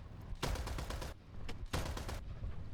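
Aircraft cannon strafing a medium tank in War Thunder: two dense bursts of rapid gunfire, each lasting most of a second, with a short sharp shot between them, loud and close over steady engine drone.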